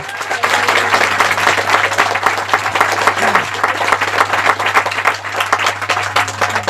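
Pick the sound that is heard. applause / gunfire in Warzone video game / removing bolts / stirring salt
applause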